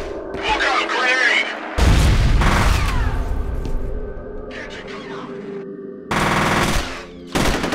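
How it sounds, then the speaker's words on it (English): A grenade going off amid gunfire in the shooter game F.E.A.R.: loud bursts of automatic fire and a heavy blast in separate chunks with quieter gaps, plus shouting voices. "Look out, grenade!"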